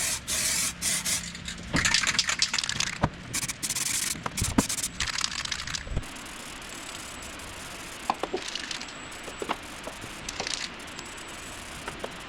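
Spray paint goes on as a light black adhesion coat over the boot of a Nissan S13, in close bursts of hissing spray broken by brief pauses and clicks, with no talking.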